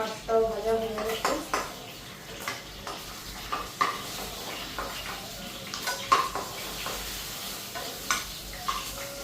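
Fish fried in a pan in a home kitchen being lifted out, with sizzling oil, clinks and scrapes of a utensil against the pan, and a voice talking over the clatter.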